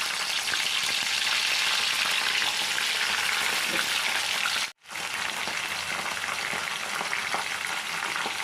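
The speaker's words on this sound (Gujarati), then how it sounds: "ઘી ગરમ થઈ ગયું હવે નાખી દઈશું લીલું લસણ" Green garlic frying in hot ghee gives a steady, dense sizzle throughout, with one brief drop-out midway before the even crackle resumes.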